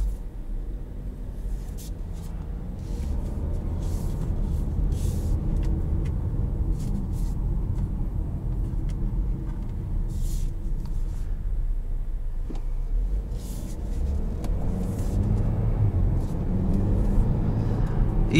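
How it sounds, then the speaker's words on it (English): A 2020 Chevrolet Equinox Midnight Edition drives along the road, its engine and tire rumble steady and close throughout, with a brief bump of road noise partway through and no talking. "let's go ahead and take it out on the road. Put it right into drive."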